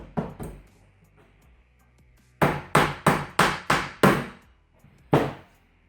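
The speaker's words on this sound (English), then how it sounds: "with that bit of movement with driving the second nail in, the first nail has come out a bit" Hammer driving a nail through metal corner anglebead into plasterboard: two light taps, a pause, then a run of six sharp evenly spaced blows and one final strike, close and loud.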